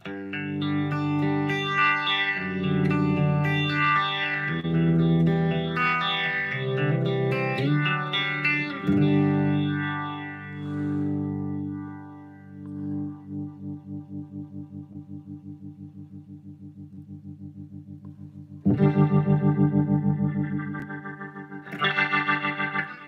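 An electric guitar through a Fender amp with a rotary effect plays chords and notes with a swirling, pulsing modulation, then sustained chords throb slowly before fresh strums ring out.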